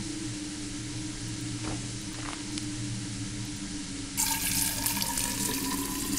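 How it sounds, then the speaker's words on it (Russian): Water runs into a pot from a tap in the Fran Bow video game. A steady, fairly quiet stream swells into a louder, fuller pour during the last two seconds, with no voices. "А может наполним котелок на всякий случай?"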